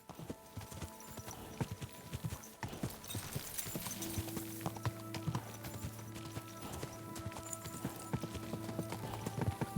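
A horse gallops in Kingdom Come: Deliverance II with steady, close clip-clopping hoofbeats, joined partway through by a sustained tonal drone, with no talking over it.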